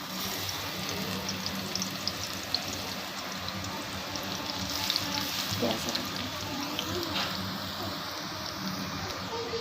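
Garlic frying in hot oil in a pan while making mash dal, giving a steady, close, continuous sizzle and crackle that persists without pause throughout.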